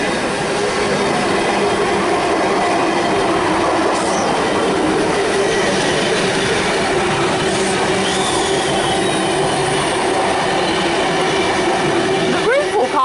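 A V-set electric train on the NSW network passes a station platform at Cowan, a loud continuous rumble of wheels and traction with steady rail noise and a brief squeal near the end.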